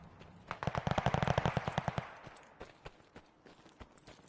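Rapid automatic gunfire from a Call of Duty Vanguard multiplayer match at a hardpoint, a loud burst of about fifteen sharp shots over a second and a half, followed by scattered fainter distant shots.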